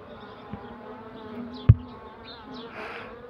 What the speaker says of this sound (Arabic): شوف النحل تركز فين اهو عشان الدخانة